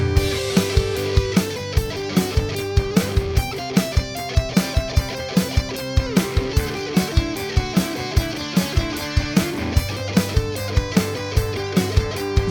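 Guitar notes plucked in a quick, even stream that climbs and falls through a repeating scale pattern, played continuously.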